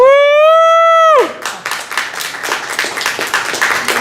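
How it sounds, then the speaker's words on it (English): Audience applause breaks out after a reverse sword swallowing act at a museum of oddities in Wilmington, North Carolina, as dense clapping and some cheering follow a long sustained note and carry on steadily to the end. "How about a big round of applause for Joy?"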